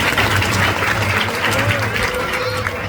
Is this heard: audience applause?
yes